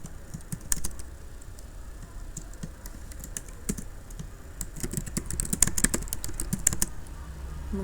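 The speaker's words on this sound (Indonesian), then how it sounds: "Ini saya langsung ketikkan aja lah ya." Rapid typing on a computer keyboard, with quick irregular clicks that get denser toward the end, close and fairly quiet over a low background rumble.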